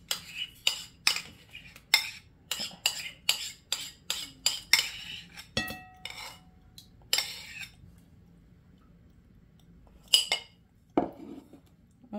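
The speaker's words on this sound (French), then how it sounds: "on casse les œufs. On ajoute le fromage, le skyr." Eggs cracked against a mixing bowl and skyr spooned in while making a gluten-free pineapple coconut cake, heard as a steady run of close, sharp clinks and knocks, then a pause and a couple of final taps, with no talking.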